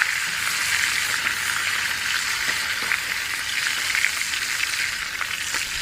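Steak sizzling steadily in a hot cast iron pan with butter as it is basted outdoors in the fall wilderness, a dense, continuous frying hiss with faint spoon scrapes and pops, close and fairly loud, no talking.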